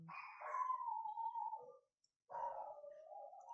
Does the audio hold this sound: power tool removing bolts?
no